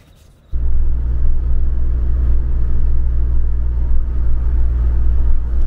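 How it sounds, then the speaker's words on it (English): Steady, loud low-pitched rumble of a car interior while driving an hour inland toward the Hawkesbury River, starting abruptly after a brief quiet moment and holding an even drone throughout with no talk. "we're going to get in the car and we're going to drive an hour inland"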